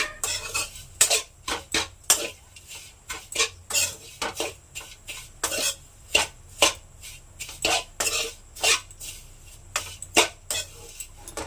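A spoon stirs vermicelli frying in ghee in a pan, making rhythmic metallic scraping strokes about once a second, close and fairly loud over a faint sizzle.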